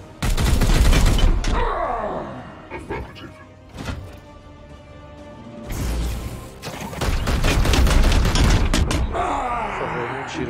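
Gunfire in the video game Warhammer 40,000: Chaos Gate Daemonhunters, loud bursts of rapid shots in two main volleys with crashing impacts and rumbling effects between them, alongside game voices.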